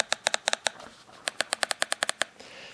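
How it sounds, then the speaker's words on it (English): A Wetek Play 2 remote control gives a rapid series of sharp, loud plastic button clicks in irregular bursts, close up, with a short pause partway through and no talking. "This is the sound of the remote."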